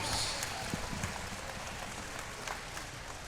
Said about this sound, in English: a big round of applause for both of these professional heavyweight warriors